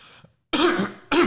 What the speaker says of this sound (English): Sorry, a little cough.